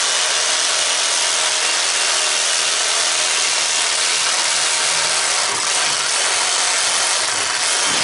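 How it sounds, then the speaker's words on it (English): Sawzall reciprocating saw cutting through a large sealed unit being scrapped for copper, a loud, steady buzzing rasp that runs unbroken from start to finish with no talk. "Finish it up with a Sawzall."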